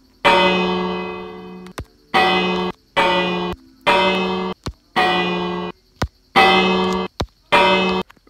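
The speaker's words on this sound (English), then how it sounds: "there's a lot of bells here, so, I guess I have to ring every single one." Bells struck one after another in Minecraft creative mode, about seven clanging rings at a steady pace, each a bright metallic strike with a short decaying tail and a click between strikes.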